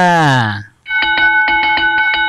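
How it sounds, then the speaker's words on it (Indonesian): A bell rings in rapid, repeated clangs with a bright metallic tone that continues steadily. A brief swooping vocal sound comes just before it. "Suara lonceng."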